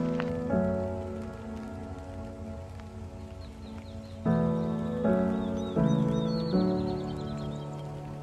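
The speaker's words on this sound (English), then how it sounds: "The rain's starting to become a real nuisance" Steady rain falls outdoors among sunflowers on a rainy day, an even, continuous hiss of drops throughout, with soft musical tones playing over it and no talk.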